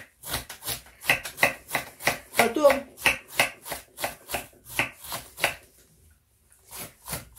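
A knife chops through cabbage for sauerkraut in a steady run of crisp, close strokes on a board, pausing briefly once before resuming.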